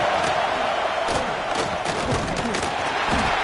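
A big stadium crowd in the College Football 26 video game roars steadily during a home team's goal-line stand against #3 Tennessee in dynasty mode, a dense continuous cheer with no talk.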